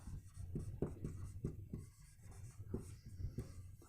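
A pen scratches out a handwritten note in a series of quiet, rhythmic strokes, close and soft, with no talk over it.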